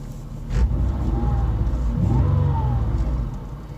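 A Mazda 6 with a custom cat-back exhaust revs twice, heard from inside the cabin, each rev a loud low rumble that swells and fades over a steady drone.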